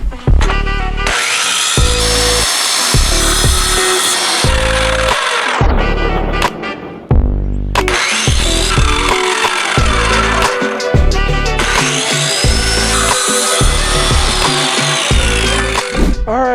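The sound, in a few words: power saw cutting the top for an aquarium stand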